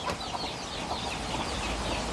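Farm chickens being fed during rice-growing season cluck and chatter together in a steady, busy flock noise that continues throughout, fairly close with no gaps.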